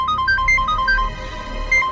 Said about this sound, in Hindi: फोन को साइलेंट पे डाल देता हूँ